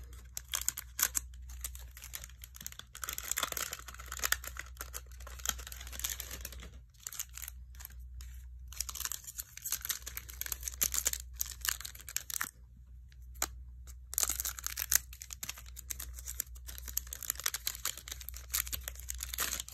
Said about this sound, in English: Anybody else open their cards with scissors?